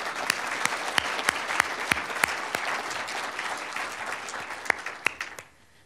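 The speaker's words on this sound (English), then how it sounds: "Let's give her another round of applause." Audience applause at a chamber of commerce state-of-the-district event, a steady dense clatter of many hands with sharp louder claps standing out, holding for several seconds before cutting off abruptly near the end.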